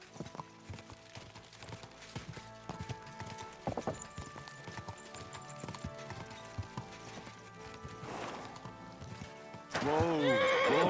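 In Kingdom Come: Deliverance II, horse hooves clip-clop in an uneven rhythm over game music, and a loud horse neigh bursts out at the end.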